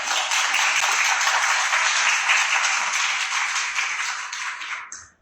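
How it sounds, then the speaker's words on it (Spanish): Applause from the audience at an editorial panel forum on audiobooks: a bright, even wash of many hands clapping that holds steady and then tapers off quickly to silence at the end. "Un aplauso para todos"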